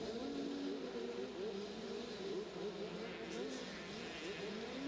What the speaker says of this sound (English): A couple of bikes look like they need to be a bit more warmed up, still blowing a bit of two-stroke out the back